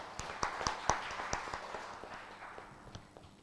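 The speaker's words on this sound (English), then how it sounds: "join me with a big round of applause to thank the speaker" Applause from an event audience at the close of a conference session, a short burst of scattered hand claps that thins out and fades over a few seconds.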